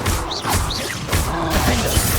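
Stupefy stunning spell cast in Hogwarts Legacy combat, a series of sharp whooshing impacts and crashes at roughly half-second intervals over a dense, loud background of battle noise.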